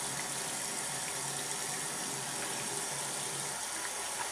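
Tap water runs steadily into a sink as a large makeup face brush is rinsed, a constant close hiss and splash with no breaks and no voices.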